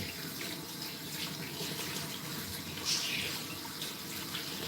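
Water runs steadily from a sink tap during rinsing, a continuous close splashing hiss with no pauses across the whole stretch.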